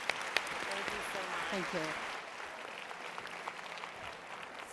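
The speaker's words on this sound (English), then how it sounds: "A round of applause" Audience applause for an executive panel at a women's leadership conference in Toronto, a soft, fairly distant patter of many hands, with a brief spoken thanks over the start and the clapping thinning toward the end.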